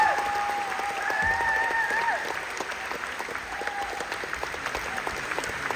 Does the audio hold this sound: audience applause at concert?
yes